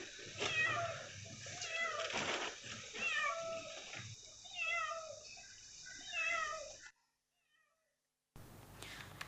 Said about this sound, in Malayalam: കിണറ്റിൽ 3 ദിവസമായി കുടുങ്ങിക്കിടന്നിരുന്ന പൂച്ചയെ അതിസാഹസികമായി രക്ഷപ്പെടുത്തി